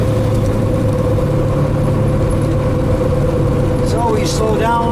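A 13-speed truck engine drones steadily as it slows to about 1200 RPM with the throttle off, giving a continuous low hum with a faint tonal whine, while someone talks over it.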